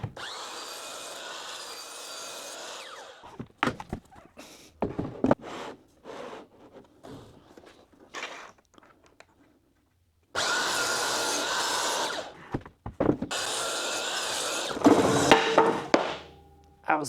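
Power saw cutting plywood to length in a workshop, with loud bursts of sawing separated by gaps of knocks and handling noise, a long cut near the start and another later.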